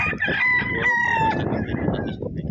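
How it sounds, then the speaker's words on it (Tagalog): A rooster crows loudly and close by, one drawn-out call over a noisy background at a game farm. "Dito muna natin kumuha muna tayo ng manok kay Sir GC dito sa livestock."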